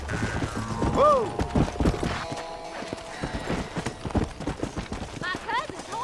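Horses gallop in a race in the Red Dead Redemption video game, with hoofbeats pounding under loud overlapping voices and shouts.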